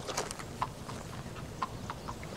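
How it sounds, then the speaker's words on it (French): A horse clip-clops at a walking pace, each hoof striking at a steady, unhurried rhythm. The sound is faint and somewhat distant. "Tu as un beau cheval."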